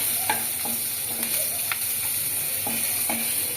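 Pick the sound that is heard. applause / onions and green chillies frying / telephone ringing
onions and green chillies frying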